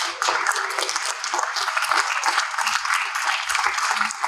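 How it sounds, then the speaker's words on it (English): An audience at a conference summit claps together to welcome a speaker onto the stage, dense and lively applause that carries on steadily for several seconds. "An applause for Anne."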